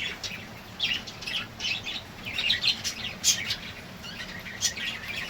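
Several small pet birds in a home setup with pot nests chirp and tweet in quick, overlapping bursts, fairly close, over a soft background hiss.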